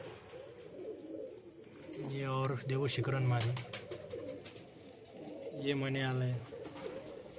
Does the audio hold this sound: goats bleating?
no